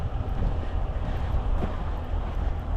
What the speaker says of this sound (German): Es ist auch ein leichter Wind. Jetzt zieht es auch gerade ganz schön in die Ohren rein.